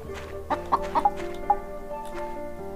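Chickens in My Time at Portia cluck in a few short bursts over a soft steady background hum, the calls close and fairly clear.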